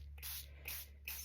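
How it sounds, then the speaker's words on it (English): Fine-mist water spray bottle spritzing collage papers for collagraph printmaking: three quick hissing bursts, close and clear, over a steady low hum. "I have a fine mist water spray that I'm going to use to spray these papers."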